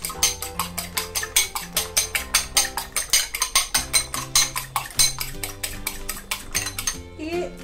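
Whisking egg yolk in a bowl for spaghetti carbonara, a fork or whisk clicking against the bowl in a fast steady rhythm of sharp repeated taps, close and fairly loud over faint background music.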